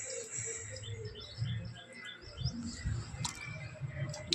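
A parrot chirps in a series of quick high twittering notes, fairly close but faint, over low rustling and handling noises outdoors.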